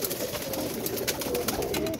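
Pigeon cooing from Chaudhry's fancy pigeons, a steady low throaty coo repeating close by over a constant hiss of background noise, with no talking.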